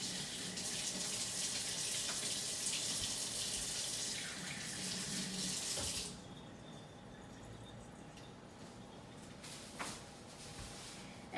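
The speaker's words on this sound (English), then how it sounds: "we're going to go and wash our hands" Water runs from a kitchen tap during handwashing, a steady bright splash into the sink that softens and quiets partway through, then continues faintly with small knocks and movements nearby.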